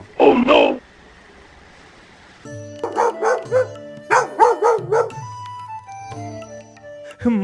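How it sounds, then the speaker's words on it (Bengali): Cartoon dog barks in a Bangla comedy cartoon, a loud double bark at the start followed by animated character voices talking over music. "কুত্তা তো কামড়াতে আসছে"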